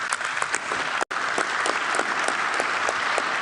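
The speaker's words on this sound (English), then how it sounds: "Let's give him another round of applause, please." Sustained applause from a large audience at a pre-World Cup FIFA gathering in Vancouver following a speech by Arsène Wenger, a dense steady roar of clapping throughout with one brief dropout.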